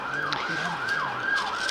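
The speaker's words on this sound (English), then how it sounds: "So we hear some sirens whizzing past." Sirens of emergency vehicles passing outside a cricket ground, a rising and falling wail repeating about three times, moderately distant and steady.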